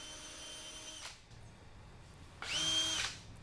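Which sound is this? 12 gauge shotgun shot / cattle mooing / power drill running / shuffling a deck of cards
power drill running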